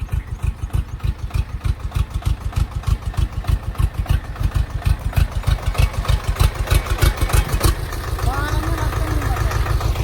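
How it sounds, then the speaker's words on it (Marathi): A tractor engine chugs steadily at close range in a vegetable field, loud rhythmic diesel thumps that shift to a smoother, faster running note near the end. "हे बघा भाजीतला ट्रॅक्टर घातला आता"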